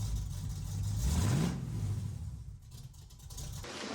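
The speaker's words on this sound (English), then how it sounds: "we installed cherry bombs and it sounded amazing" Car engine with Cherry Bomb exhaust mufflers revving up and settling back, a deep rumbling tone rising and falling over steady exhaust noise, fairly close and alone.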